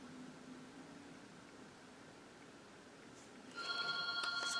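A telephone starts ringing in a quiet room, a faint bright electronic ring that begins near the end over a low background hiss.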